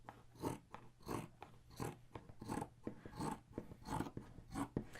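Scissors snip through a scrap of fabric in a quick, even rhythm of about eight soft, close cuts, with no talking.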